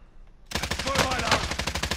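Rapid automatic gunfire in the tactical shooter Rainbow Six Siege begins abruptly and continues as a fast, loud, evenly spaced stream of shots, with a voice briefly talking over it.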